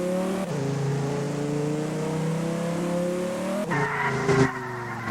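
A fast supercar in the Roblox ERLC police game roars as its engine climbs in pitch, then shifts gear abruptly with tire squeal and skidding noise, loud and close with no talking.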